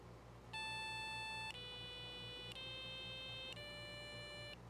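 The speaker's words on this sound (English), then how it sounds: "so those are just 4 tones that play and then the program ends." A Circuit Playground microcontroller board plays four electronic tones in sequence, each a clean steady beep lasting about a second, heard up close against a low background hum.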